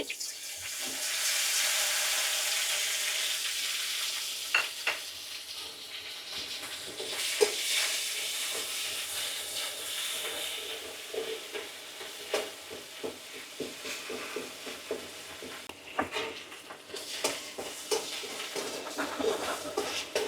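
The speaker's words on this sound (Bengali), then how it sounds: "জিরেটা ভাজা হয়ে গেছে।" Ground cumin paste frying in a pan, a broad hissing sizzle at first that settles into steady crackling with scattered pops and scraping stirs, close and continuous with no talking.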